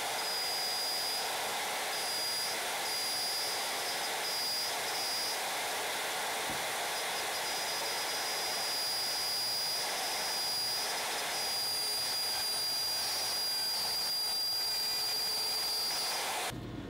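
A Shaper Origin handheld CNC router with its cutter spinning fast and feeding slowly through material gives a steady, loud high-pitched whine and hiss, constant for the whole stretch with no talking.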